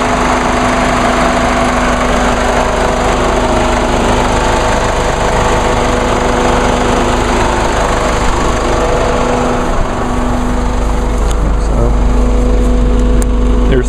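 A twin-turbo diesel engine rated at 200 horsepower and 369 lb-ft of torque runs with a steady, loud low rumble and constant mechanical drone throughout, close by with no break in the sound.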